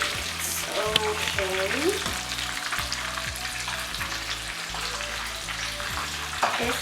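Fish fingers sizzle and crackle over an open fire, a steady frying hiss close by with low rhythmic hum and brief clatter; a voice says a word briefly.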